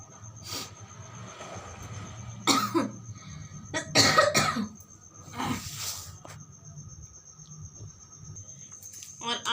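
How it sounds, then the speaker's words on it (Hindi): Several harsh coughing bursts from a person with a cold, close by, spaced irregularly across the clip, with low background rumble and faint voices in between. "सर्दी सी हो गई थी, इसलिए खांसी हो रही है ना।"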